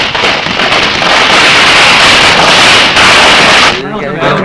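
Firecrackers burst continuously in a Malayalam film scene from Sandesham, a dense, loud crackling barrage filling nearly the whole stretch before cutting off abruptly near the end.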